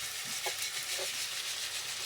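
A tomato-based masala paste fries quietly in a pan for an egg curry, giving a soft, continuous sizzle with a few faint stirring knocks.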